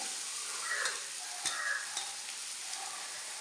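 Fried rice being stirred and tossed in a pan over high flame, with a steady close sizzle and occasional scraping clinks of the spatula, no voices.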